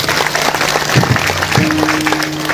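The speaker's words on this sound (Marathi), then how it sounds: "म्हणून एकदा तुम्हा समस्त ग्रामस्थांकरिता जोरदार टाळ्या." Villagers in Chikhalhol clap at a kirtan, a loud, dense, steady wash of applause from a crowd, with a low sustained tone beneath it and no speech.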